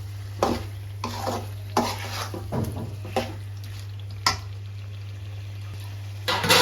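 Chicken liver and potatoes being stirred and fried together in a pan, with a low sizzle under a series of sharp scraping and clinking knocks of a spoon against the pan, spaced irregularly, with a steady hum behind.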